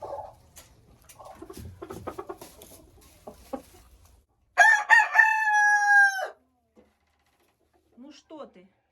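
An Ameraucana rooster gives one loud, close crow in the middle, preceded by low clucking and hen noise and followed by quiet short calls.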